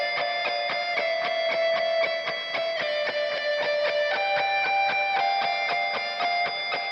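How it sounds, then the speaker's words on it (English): Processed metal guitar lead with a pick audibly scraping along the string on each note, a steady run of rapid picked notes with bright scratchy attacks, loud and close, no talking. "that sound is actually from the guitar pick itself sliding on the guitar string"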